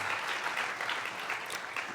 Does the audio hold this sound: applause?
yes